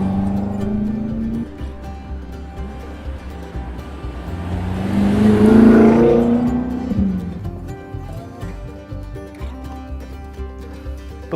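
A 2015 BMW M5 30 Jahre accelerates hard on the road, its engine note swelling to a loud roar mid-clip before settling back into a steady drone as it cruises on, close and with no voices.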